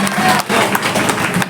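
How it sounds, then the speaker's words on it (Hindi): Audience applause welcomes a minister at a foundation-stone ceremony in India, with dense, steady clapping from a crowd that is loud and close and continues through most of the moment with only a brief dip. "आप सभी लोग अपने कर्तव्य से उनका जोरदार तालियों से स्वागत करते रहिएगा।"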